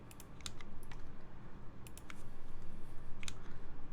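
Typing on a Monstargear K80 aluminium mechanical keyboard gives scattered crisp key clicks in small bursts over a low steady room hum, fairly quiet.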